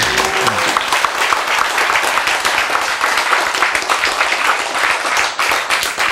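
Sustained applause from an audience at a Korean lecture or sermon, dense steady clapping filling the whole stretch at a loud, even level with no talk over it.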